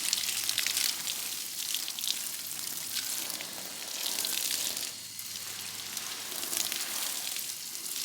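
Water from a hose or watering can patters steadily onto garden plants, rocks and raspberry canes, a continuous hissing spray that swells and eases in waves, close by.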